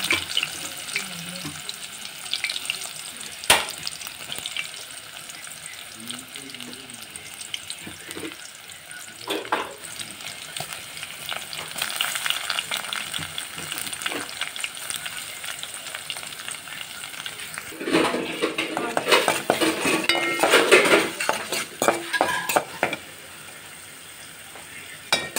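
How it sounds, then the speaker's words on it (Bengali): Chopped onions sizzle in a pan with eggplant and potatoes, a soft steady frying hiss broken by scraping stirs, with a louder stretch of water hiss from a running tap or rinsing near the end. "এই যে এখন পেঁয়াজ কুচিগুলো দিয়ে দিলাম।"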